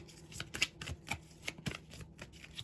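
Tarot cards being shuffled by hand, a run of quick close riffling flutters and soft slaps in an irregular rhythm, with no talk.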